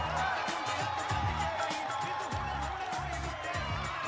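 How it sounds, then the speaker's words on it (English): Wrestling event crowd cheering and whooping throughout, a steady wash of voices under thumping arena music with rhythmic low beats. "And the crowd certainly do love him."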